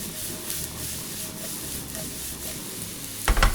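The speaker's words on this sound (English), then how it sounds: "Heat up a pan with olive oil and lightly sauté the carrots first to bring out their natural sweetness." Carrots sauté in olive oil in a hot pan, giving a steady low sizzle and light stirring throughout, with a louder burst of clatter and hiss near the end.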